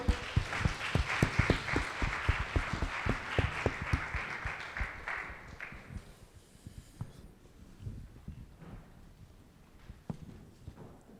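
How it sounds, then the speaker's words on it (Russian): A church congregation at a Sunday service claps for the worship team, with brisk, fairly close claps for about six seconds before they thin out and fade to a quiet room. "Громкие аплодисменты группе прославления"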